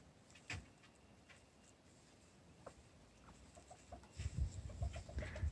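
Chickens cluck inside a backyard chicken pen, with scattered clucks and calls early on and a livelier, louder burst of clucking and rustling near the end.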